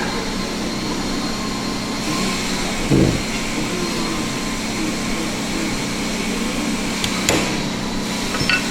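Two sharp hammer taps, about four seconds apart, land on warped Shiloh Sharps rifle side and trigger plates as they are straightened, standing out over a constant, loud background hum.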